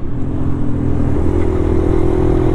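A Suzuki VanVan single-cylinder motorcycle with fat tyres drones along at a steady pace, its engine a continuous low, throaty hum that holds an even level throughout with no voices.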